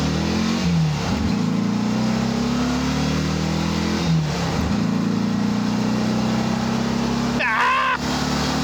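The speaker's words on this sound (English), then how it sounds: "let's test out the acceleration" A 1948 Porsche 356 Speedster replica accelerating hard, its engine a loud, close, rising drone that climbs through the gears with brief dips at each shift, while a voice exclaims near the end.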